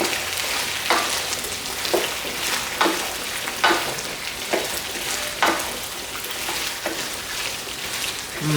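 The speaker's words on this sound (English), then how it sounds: "Now we can turn the heat to medium heat and just quickly give this a quick stir fry so the sauces combine." Chicken stir-fries with soy sauce in a hot wok, giving a steady, close sizzle broken by regular scraping stirs about once a second, with no talking.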